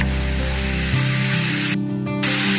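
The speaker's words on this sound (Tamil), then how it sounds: "வெங்காயமும் பச்சை மிளகாயும் நல்லா வதங்கட்டும்." Chopped onion and green chilli sauté in a hot pan, giving a loud, steady hissing sizzle that continues without a break apart from a brief dip near the end.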